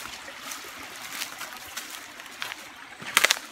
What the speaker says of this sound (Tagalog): So yan no, meron batis dito.